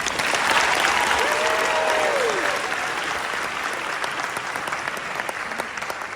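Lutheran school graduation audience applauds the commencement speaker, a large crowd producing loud, dense, continuous clapping that holds steady throughout.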